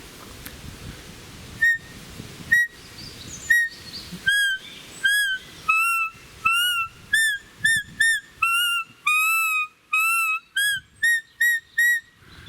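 A Belblatt roebuck call is blown to imitate young and old roe deer, giving a dozen or more sharp, whistling peeps in a quickening series, with the pitch shifting between higher and lower calls, loud and close against quiet background noise.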